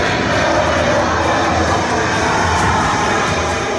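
A Rafale fighter jet at Air Base 118 roars continuously, loud and close, a broad, steady engine rush with no gaps and no voices over it.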